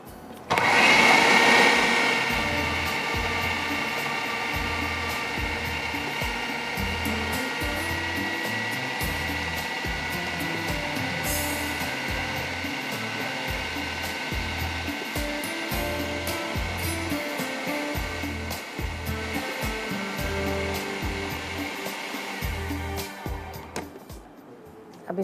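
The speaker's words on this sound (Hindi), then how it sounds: "पहले इसको अच्छे से पीस लेते हैं" An electric grinder whirs continuously as it blends an egg and gram flour mixture for a sausage cheese roll. The motor drone is loud and steady, with a pulsing churn, and lasts about twenty-five seconds before cutting off.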